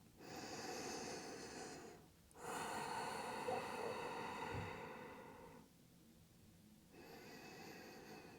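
A person exhales audibly during a yoga forward fold, with soft, close breaths rising and falling in a few long waves over faint background hiss.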